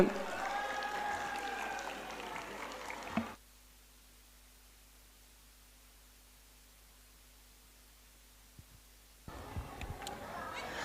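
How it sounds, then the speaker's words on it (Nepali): Applause from an audience for a singer on a talent-show stage, a dense clapping roar for about three seconds that cuts to near-silence with a low hum, then swells again briefly at the end. "I think this clap is not enough for him."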